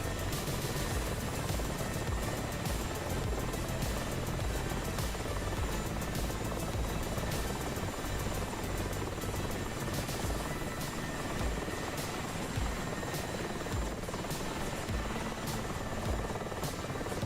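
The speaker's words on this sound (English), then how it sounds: "he is doing 157 knots down towards the back end of the straight here, so Mi-24 is not short on power" A Mi-24 helicopter at speed in a racing tournament video game: a loud, steady rotor and turbine roar with faint rhythmic blade chop that runs without a break and with no talk.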